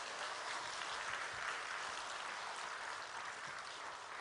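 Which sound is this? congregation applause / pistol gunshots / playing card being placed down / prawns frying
congregation applause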